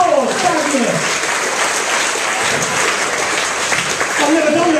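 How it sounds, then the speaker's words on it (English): A stage magic show audience gives a volunteer a round of applause, a loud, full burst of crowd clapping that holds steady, with a voice heard briefly at the start and end. "Give Daniel a round of applause"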